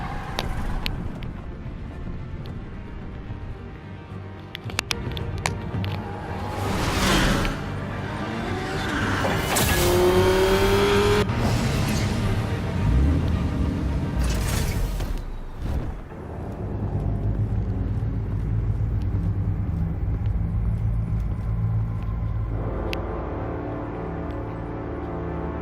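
Batman's jet car in a Batman video game roaring to life, with loud whooshing surges and rising mechanical tones over a rumbling background, building then fading into a quieter steady hum.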